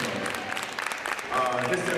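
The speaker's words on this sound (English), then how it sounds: "give Shavonne another round of applause" A school audience claps for Shavonne at a motivational hip hop show, a steady crowd applause with voices and music mixed in, swelling slightly toward the end.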